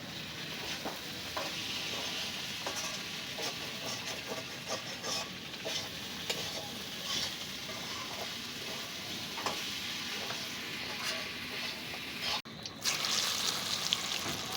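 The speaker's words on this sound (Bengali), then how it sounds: "এই প্রথম আমি পেঁয়াজি বাজতাছি" Steady crackling sizzle of onion fritters frying in hot oil, continuous and close, with occasional stirring clinks and a brief shift near the end.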